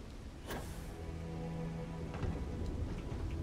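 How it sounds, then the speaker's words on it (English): Steady rain hiss in the video game Starfield on an alien planet, continuous and fairly loud throughout, with a soft rumble underneath and no voices. "Get me in, it's raining."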